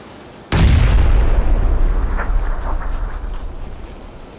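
A grenade explosion in the PUBG video game, one sudden loud boom followed by a long rumbling decay with faint pops trailing off.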